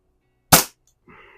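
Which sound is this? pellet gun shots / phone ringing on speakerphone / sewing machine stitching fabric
pellet gun shots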